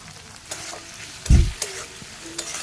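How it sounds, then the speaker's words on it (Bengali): Spice paste and potatoes sauté in a pan for a Bengali tangra fish curry, a low sizzle punctuated by scraping stirs and one louder thump of the spatula, close and unaccompanied by speech. "সুন্দর করে আবারও কষিয়ে নিচ্ছি পুরোটাকে"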